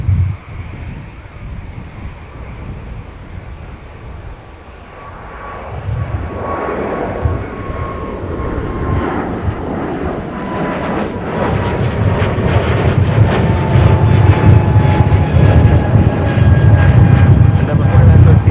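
A jet airliner departing Minneapolis–Saint Paul airport on a winter day roars as it builds power, the broad rumble growing louder and fuller over time, with wind buffeting the microphone.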